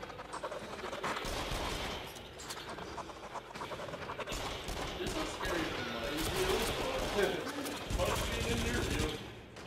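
A minigun in the Rush of Blood game fires in rapid, sustained bursts under a dense game mix, while a voice talks and exclaims over it.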